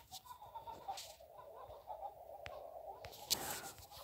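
Video-game chickens cluck softly in Egg, Inc. against a steady background hum, with occasional sharp clicks and a brief louder burst near the end.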